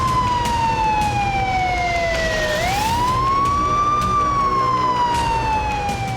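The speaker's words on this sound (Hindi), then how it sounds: "घायलों की मदद के लिए एम्बुलेंस सायरन बजाती और बत्तियां जलाती हुई दौड़ती दिखाई देने लगी।" An ambulance in Israel races to help the wounded with its siren blaring. The loud wail glides down in pitch, then sweeps back up and holds, close by over a constant rumble of traffic.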